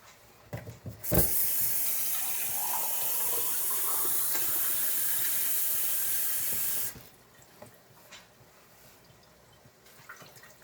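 Tap water gushes steadily from a faucet to fill an empty cream of chicken soup can for a corn chowder, a loud continuous rush lasting about six seconds before it cuts off to quiet kitchen sounds.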